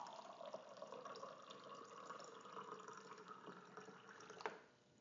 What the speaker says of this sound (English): let's just empty from the purifier into that glass.